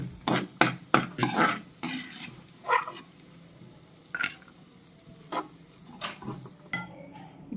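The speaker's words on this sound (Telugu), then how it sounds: "చక్కగా అటు ఇటు తిప్పుకుంటూ ఈ జీడిపప్పుని ఫ్రై చేసుకోవాలి." Cashews stirred while frying in ghee in a pan for pumpkin and sweet potato halwa, giving a series of sharp spoon-against-pan scrapes and clinks in quick bursts, then sparser single knocks over a faint sizzle.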